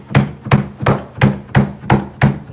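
A hammer tacker drives staples into the groove of a stair runner in seven sharp, evenly spaced whacks, close and loud, about two per second.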